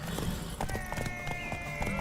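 A horse gallops in The Witcher 3 video game, its hoofbeats thudding in a steady rhythm beneath game music and ambient noise, with a brief whinny-like tone and faint voices.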